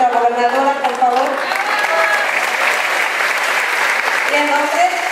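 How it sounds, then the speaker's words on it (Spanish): Audience applause for the governor at a public event in Morelos, a crowd clapping steadily with a voice speaking over the start and end of the clapping. "un fuerte aplauso a nuestra gobernadora, por favor."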